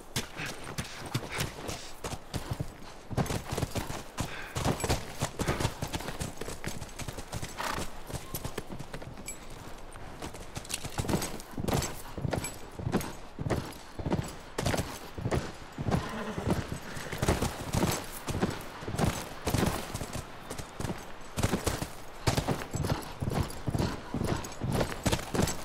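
Steady clip-clop of horse hooves at a brisk trot in The Last of Us Remastered, close and continuous, with a whinny partway through.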